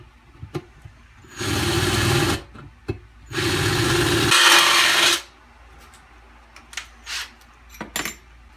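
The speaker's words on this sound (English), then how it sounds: "Done filed it down with a file to make sure it's nice and smooth" A hand file rasps at the edge of a drilled hole in metal on a Honda Accord oil pan during a no-weld oil bung install. Two long, loud, close rasping strokes are separated by a pause, with lighter scrapes and taps around them.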